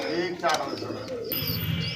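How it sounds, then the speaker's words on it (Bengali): Pigeons coo at a farm where pairs are on sale, with soft bird calls close by, a brief burst of chirping and a voice talking over the birds. "চমৎকার একটা জোড়া এটাও কিন্তু খুবই খুবই সুন্দর একটা কবুতর"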